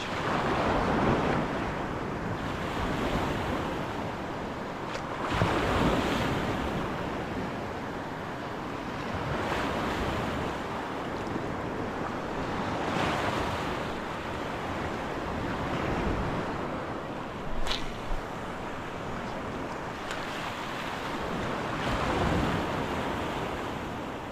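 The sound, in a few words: ocean surf and wind at Boca Chica Beach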